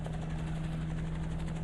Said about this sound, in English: all this variety of choppers are taking off and landing